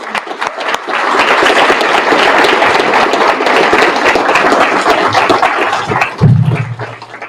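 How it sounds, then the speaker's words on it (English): A crowd at a DC Fire and EMS ceremony gives a round of applause, a loud, dense wash of clapping that swells after the first second, holds steady, then fades near the end as a low hum takes over. "Can we give them all another round of applause?"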